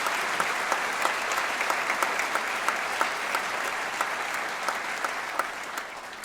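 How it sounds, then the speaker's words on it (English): Audience applause during a city's State of the City address, a broad wash of steady clapping from a large crowd with occasional distinct nearer claps, holding level throughout. "Let's give County Executive Polenkars a round of applause."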